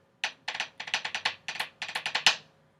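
Crisp snare drum strokes with a double added to the triplet check pattern, a rudiment from a 2015 Lions band snare solo, playing about a dozen sharp, evenly spaced hits in quick bursts that build to a final accented stroke.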